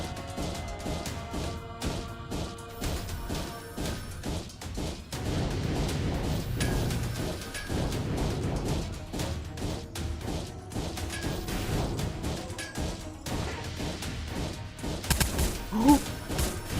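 Rockets fire in a video game amid a dense, continuous mix of game effects, with repeated bursts and impacts over busy background sound.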